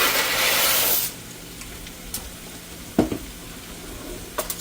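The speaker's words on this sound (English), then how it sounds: "So now back here where our water is boiling, I'm going to put in a half a box of just elbow macaroni" Pot of boiling water with half a box of Kroger elbow macaroni, a loud steady rushing hiss for about a second that drops to a quiet simmer with a few close clinks and knocks.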